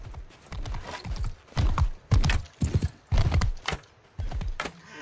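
Horse hooves clatter in bursts of galloping clip-clop during a Mount & Blade II: Bannerlord battle, with rhythmic thuds rising and falling in loudness, near and fairly prominent.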